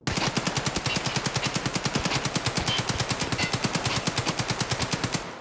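Rapid automatic weapon fire in Escape From Tarkov, a steady burst of evenly spaced loud shots that runs unbroken for several seconds and then cuts off as the gun jams with a failed firing pin strike.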